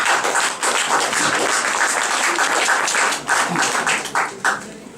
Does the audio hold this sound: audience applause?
yes